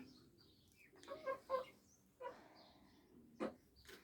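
Hens and a rooster cluck softly in a backyard farmyard in early June, short scattered calls at moderate distance, quiet and with no voices.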